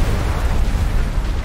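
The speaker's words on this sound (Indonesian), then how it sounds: "Yah, kapal gua meledak guys." A ship exploding in the video game Subnautica Below Zero, a dense, loud, sustained rumbling roar with heavy low-end crackle and no break.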